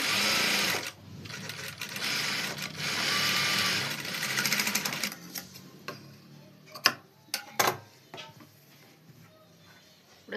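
A sewing machine runs fast double stitches on a blouse in a dense mechanical whir, then slows into scattered clicks and knocks as the fabric is handled.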